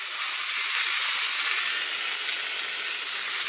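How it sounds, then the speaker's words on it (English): Meat searing in a smoking-hot pan gives a loud, steady sizzle with a continuous bright hiss and no breaks, close up and heard alone. "You wanna hear that sizzle."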